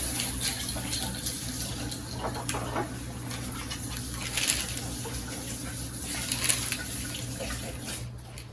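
Running tap water pours steadily while hands are washed under it in a home kitchen, a soft continuous splashing with slight shifts in flow and faint background sounds.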